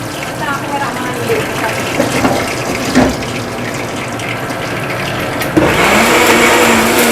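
Loud whirring of a blender running steadily close by, with a rougher surge near the end and a voice talking over it.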